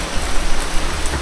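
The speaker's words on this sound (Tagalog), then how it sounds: "Umuulan kasi" Rain falls outdoors in a dense, steady hiss of drops, loud and close, with no voices over it.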